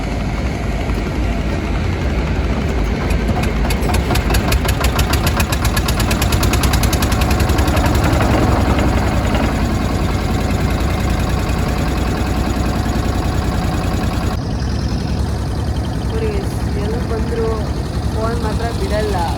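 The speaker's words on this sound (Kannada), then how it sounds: "ಸೊ ಅವ್ರ ಬೋಟಲ್ಲೇ ನಾವು ಬೋಟ್ ರೈಡ್ ಸ್ಟಾರ್ಟ್ ಮಾಡ್ಕೊಂಡ್ವಿ." A boat engine runs steadily through a ride near Honnavar, Karnataka, a loud continuous drone with wind and water noise that shifts in tone partway through.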